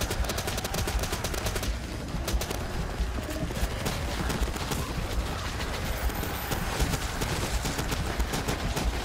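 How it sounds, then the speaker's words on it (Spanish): Rapid, dense shotgun and gunfire blasts in the Call of Duty Black Ops 3 zombie arcade mode, loud and continuous bursts with game effects filling the whole stretch. "esta escopeta parece que está tirando aire"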